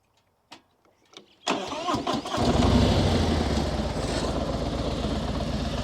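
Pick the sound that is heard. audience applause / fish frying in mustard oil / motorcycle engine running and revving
motorcycle engine running and revving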